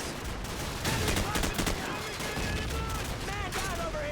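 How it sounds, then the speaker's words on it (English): Sustained heavy gunfire in a Call of Duty 4 campaign battle, rapid overlapping shots and bursts under shouted voices and radio chatter. "Damn, that's full on area of bullets."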